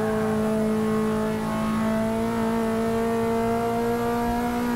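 A Lotus Elise engine in the racing game Forza 6 holds a loud, sustained, tonal rev, its buzzing pitch climbing slowly and steadily with no voices over it.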